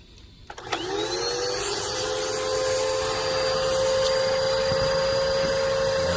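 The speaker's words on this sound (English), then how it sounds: "vacuuming out the lint from this end that she couldn't get from inside the house" After a brief clatter, a vacuum cleaner motor spins up and then holds a steady, loud whine while it sucks lint out of a dryer vent from the outside end. No one speaks.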